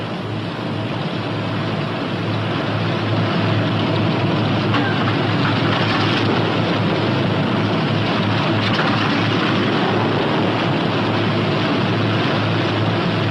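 Engine on a P-61 Black Widow night interceptor idling at around 1,000 to 1,200 RPM: a loud, steady, droning roar that holds constant throughout with no voices.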